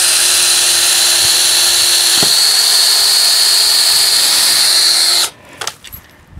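A power drill whines loudly and steadily for about five seconds as it bores through the center of a greenhouse hoop, then stops abruptly, followed by a few faint clunks.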